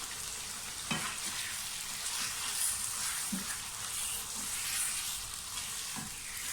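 Chicken pieces for chicken korma fry in a pan with a steady, close sizzle, with a few soft stirring scrapes and knocks scattered through.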